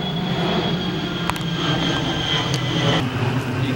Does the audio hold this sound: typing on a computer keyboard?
no